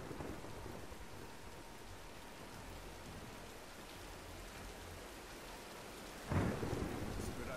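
Rain and a thunderstorm in the Tomb Raider video game: steady rain hisses throughout, then a sudden crack of thunder rumbles loudly near the end over the continuing downpour.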